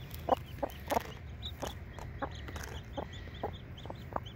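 A hen in a garden box clucks softly beside her newly hatched chick, giving a run of short, evenly spaced clucks that stand close and clear above quiet outdoor background.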